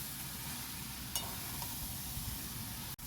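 Mango pieces are stirred with sugar in a pan for a sweet, sour and spicy pickle, giving a faint continuous hiss with a few soft scrapes and clicks.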